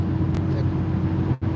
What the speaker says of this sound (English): And this is the typical traffic.